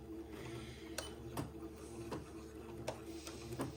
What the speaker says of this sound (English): I'll sew the second pass of my French seams